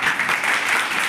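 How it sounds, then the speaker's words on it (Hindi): A classroom of students claps together in a short burst of dense, even applause, close and fairly loud. "अच्छा चलिए तालियां बजा दो एक बार"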